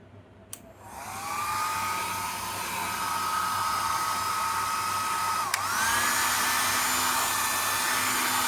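A mains-powered hair dryer with two heat settings runs at high airflow, a steady loud broadband whoosh with a whining motor tone that starts after a click and shifts pitch slightly midway as the setting changes.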